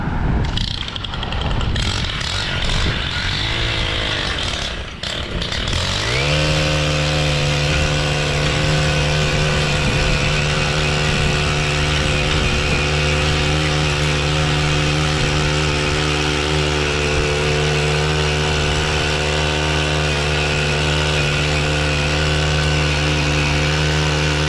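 STIHL curved-shaft edger engine revving up at first, then holding a loud, steady, buzzing run at close range with no speech.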